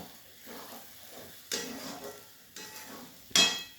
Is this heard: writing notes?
no